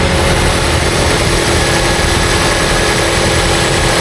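A 2005 Ford Escape engine running at idle, a loud, steady, close drone that holds unchanged throughout with no voices.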